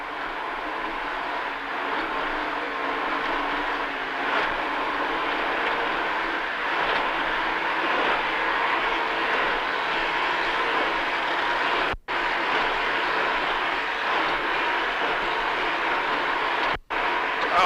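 A 46-foot Skater offshore racing powerboat with two 1,250 horsepower engines roars steadily through an offshore powerboat grand prix race off Miami, a continuous heavy drone that is broken only by two brief dropouts.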